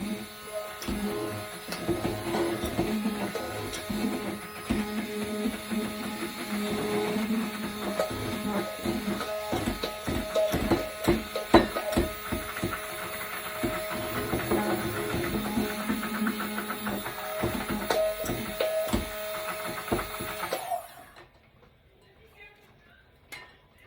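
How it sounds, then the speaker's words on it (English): An immersion blender whips 18 egg yolks for lemon curd, a steady buzzing whir with rattling clicks against the container lasting about twenty seconds before cutting off to near silence. "I'm gonna give these a little whip with my immersion blender"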